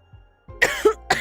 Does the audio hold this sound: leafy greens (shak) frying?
no